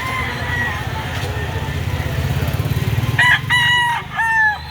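A rooster crows at a busy chicken market behind SM Lipa City, Batangas, its calls loud and near over constant crowd chatter and background bustle, with a second crow following shortly after.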